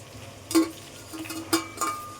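Pieces of pointed gourd (potol) are tossed in a pan of cooked spice mix for a vegetarian Bengali dish, with a low sizzle and a few sharp scrapes of the spatula against the pan.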